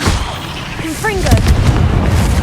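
A Confringo fire spell bursts in Hogwarts Legacy, a booming explosive blast amid ongoing battle noise, with a short rising whistling streak as the spell flies and a denser rumble as it hits.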